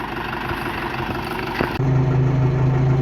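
A Case tractor engine runs in a field during flax desiccation work, a steady close hum that drops briefly, then shifts into a louder, deeper droning tone.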